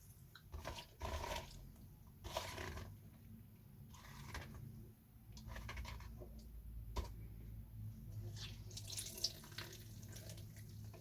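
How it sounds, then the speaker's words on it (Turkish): Water is squeezed out of pickles by hand, giving soft wet squelches and trickling drips into a bowl or sink, quiet and close, with intermittent handling noises. "suyunu sıkıyoruz."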